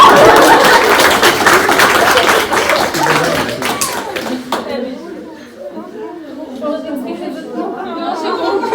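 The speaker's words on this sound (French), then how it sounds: "Maintenant, vous pouvez applaudir." Classmates on their last day of class applaud together in a room, a dense burst of clapping mixed with chatter and laughter that tapers off after about four seconds into quieter talk.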